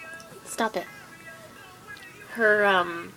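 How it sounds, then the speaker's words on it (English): A pet cat meows a few times, with a pair of short calls near the start and a longer, louder drawn-out meow toward the end, close by against a quiet background. "I'm waiting for my cat to knock over the camera."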